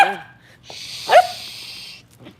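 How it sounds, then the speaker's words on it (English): A dog indoors gives one sharp bark in the middle, with breathy panting and whimpering noises before and after it, close to the microphone. "Oh my God, my dogs are going."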